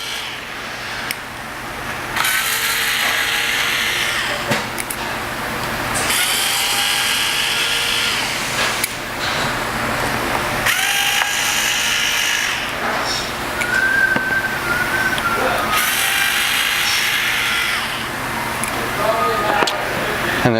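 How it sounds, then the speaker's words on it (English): A power driver backs out the five perimeter screws of the cover plate on a TRUBLUE SPEED auto belay during servicing, giving several sustained whirring bursts up close with short pauses between them, and someone talks over part of it. "now we are going to remove the 5 PSD cover plate perimeter screws"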